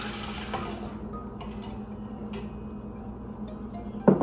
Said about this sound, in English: First, we're gonna add the milk into the mixer.